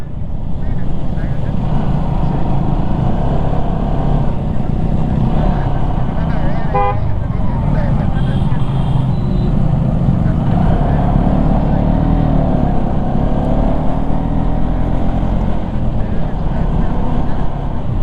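A group of nine motorbikes riding at night on a road through the Bandarban hill region, with a loud continuous engine drone, heavy wind buffeting and one short horn toot.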